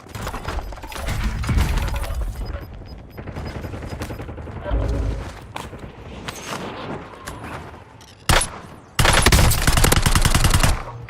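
Rapid automatic gunfire in the shooter Call of Duty Warzone comes in loud sustained bursts with brief gaps and a sharp single shot, then a final long, heavy burst.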